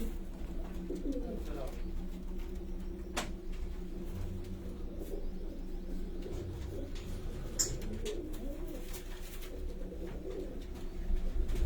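Domestic flying pigeons coo softly and repeatedly in a low, steady murmur, with people talking nearby over the birds.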